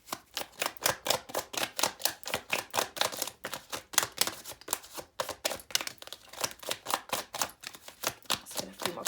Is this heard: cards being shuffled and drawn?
yes